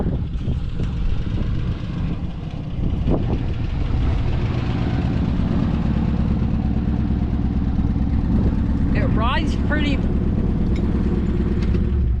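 A Dodge Challenger rolls across a bumpy field, its engine droning steadily with rattles and clatter throughout, while people talk and laugh over the noise.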